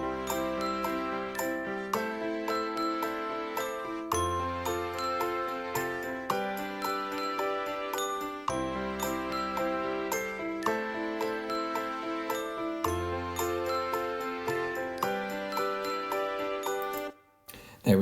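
A festive Christmas song built in GarageBand on iPad plays steadily, with bright glockenspiel and jingling bells over piano, brass and strings in a repeating rhythmic pattern, stopping briefly near the end.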